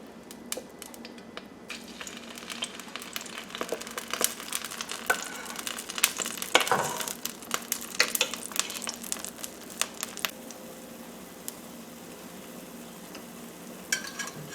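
Butternut squash pancakes fry in olive oil in a pan, giving a steady close sizzle dotted with sharp little crackles and pops that swell for a few seconds and then settle, with no talking.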